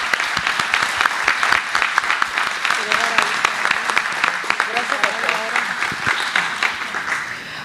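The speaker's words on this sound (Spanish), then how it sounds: "le agradecemos con un aplauso la presencia" Sustained applause from the audience at a university engineering deans' plenary assembly and panel discussion, steady dense clapping filling the whole stretch at moderate volume, with no talk over it.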